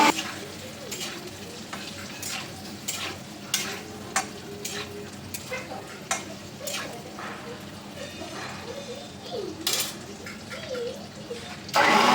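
Potatoes fry in oil for dum aloo, a soft sizzle under repeated clinks and scrapes of stirring, with a brief louder burst at the very end.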